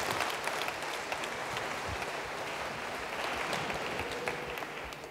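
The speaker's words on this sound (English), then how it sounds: "I would love if we could put a hand together for a big round of applause" Audience applause for a startup team at an InsurTech demo day, steady dense clapping from a sizable crowd that holds even and loud throughout, with no voices over it.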